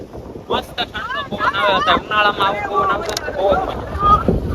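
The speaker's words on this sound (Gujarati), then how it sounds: "પવન જેવો ઠંડો આવે" Cool wind buffets the microphone at Porbandar Chowpatty beach, with gusty rumbling bursts throughout while a person talks over it.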